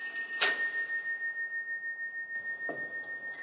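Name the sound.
Isaac Habrecht clock, figure of death striking the bell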